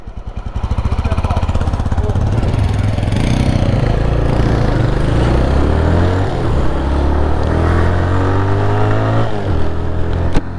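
A car engine idles and revs close by while parking on a forest roadside, a loud continuous rumbling drone that rises and settles, with faint voices in the background.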